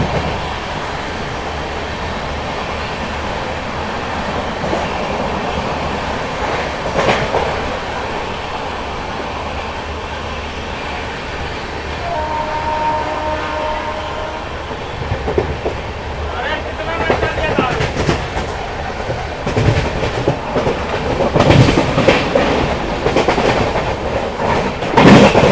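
The Amritsar Shatabdi Express runs through Kurukshetra Junction railway station without stopping, giving a steady loud rumble with rhythmic clickety-clack over the rails that grows busier and louder toward the end.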